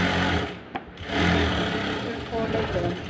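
A sewing machine runs a steady, close mechanical whir while edge-stitching a sleeve lining, with a short pause before the stitching resumes.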